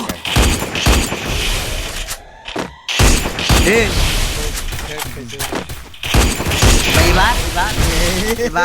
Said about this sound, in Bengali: ফাঁকা গুলি মারা